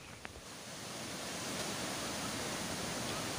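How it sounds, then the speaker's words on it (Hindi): The Ravi river flows near a bridge in Punjab, a broad continuous rushing roar of water that swells slightly louder after the first second and then holds steady, with no voices. "बहते हुए पानी की आवाज़ कितनी सुकून दे रही है।"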